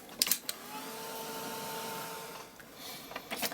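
A hair dryer drying a freshly glued paper craft tag with map fragments, a steady airy whir running nearly the whole clip, dipping briefly near the end, with a few small handling clicks at the start and finish.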